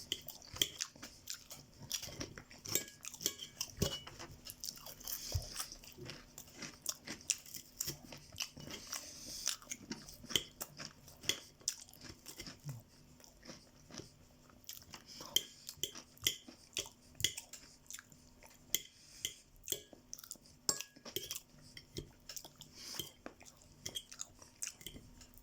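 Close, dry chewing and biting of sautéed potatoes, with a soft crunch in each bite and irregular mouth sounds repeating throughout, plus faint clinks of cutlery now and then.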